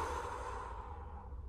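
A person breathes out slowly and audibly to relax, one long soft exhale that fades away, heard close and alone.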